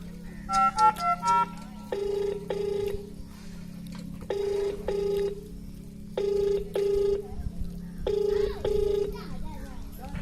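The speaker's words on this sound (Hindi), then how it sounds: "अब ये जनाब फोन भी नहीं उठाते" A telephone rings repeatedly in evenly spaced bursts, preceded by a few quick dial tones, with a steady hum underneath and no one picking up.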